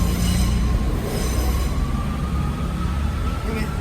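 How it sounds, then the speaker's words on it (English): A train rumbles overhead on a bridge or viaduct, loud and close, with squealing wheels and a continuous grinding roar that carries steadily through the whole stretch. "Apologies for the train going over the top."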